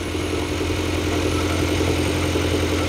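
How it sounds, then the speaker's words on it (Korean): A Kia All New K7 Hybrid Noblesse Special idles with a steady, even engine hum and a low rumble, continuous and close for the whole stretch with no talk. "엔진 소리 한번 들어보세요."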